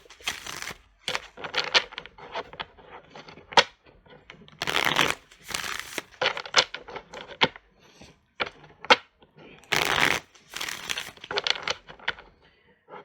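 Oracle cards are shuffled by hand in repeated bursts of crisp riffling and slapping, close and fairly loud, separated by short pauses.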